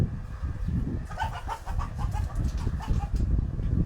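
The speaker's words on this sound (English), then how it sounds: "Oh, and then we have chickens fighting." Chickens squabbling and clucking on a small alpaca farm, a burst of agitated bird calls repeating over steady low background noise and wind, moderately close.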